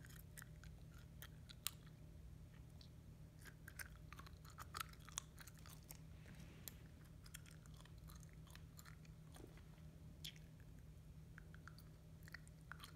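Gum chewing close to the microphone during a gel nail session: steady, moist, clicky smacks and small crackles run on for many seconds at low volume, with no talking.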